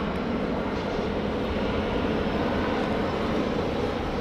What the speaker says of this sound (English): Now we got a Virgin 737 pushing back here.